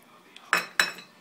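A spoon scrapes and clinks twice against a pot while stirring lentils with tofu sausages, salt, onions and cayenne pepper, two sharp close knocks in a short quiet moment.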